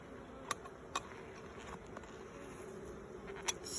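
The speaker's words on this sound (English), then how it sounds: "These are all worker bees." Worker honey bees hum steadily around an open hive during an inspection, a soft continuous buzz with a few brief sharp clicks or taps, fairly faint throughout.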